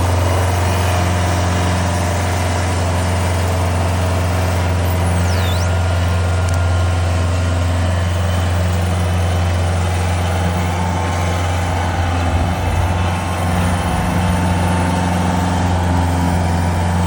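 A tractor's heavy diesel engine runs steadily and loudly while pulling a heavy log, a constant low rumble throughout with no pauses.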